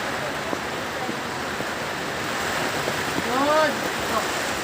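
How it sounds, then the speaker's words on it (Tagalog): Heavy rain pours in a steady, dense hiss that swells slightly near the end, with a few brief chirpy tones over it. "Lakas ng ulan."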